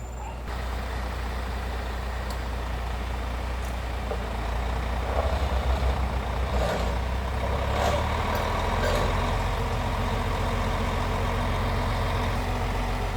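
A new yellow truck sits idling with a steady low engine rumble while reversing beeps sound in a repeating pattern throughout, close and fairly loud, with faint voices in the background.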